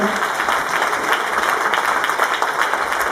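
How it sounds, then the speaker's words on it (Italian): Steady applause from a crowd at a local sports event, dense and continuous throughout, with a few voices mixed in underneath. "Un applauso"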